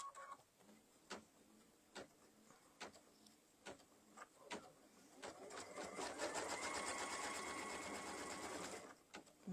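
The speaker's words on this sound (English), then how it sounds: "this next stitch is just going to give us a line" A sewing machine stitches a straight line on a pumpkin place-setting mug rug, starting with a few short, spaced bursts of needle clatter, then running in one steady, close whirring stretch before stopping.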